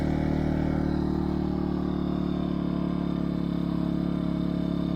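A Pioneer PC1700iC inverter generator running steadily on a farm, a loud, close, constant engine drone with a strong low hum and no change in pitch.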